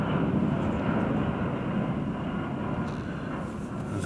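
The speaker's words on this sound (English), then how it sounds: "I've also got planes going over as well." Airplane passing overhead on a warm, sultry day with a storm approaching, a broad steady engine roar that slowly fades slightly, heard alone without talk.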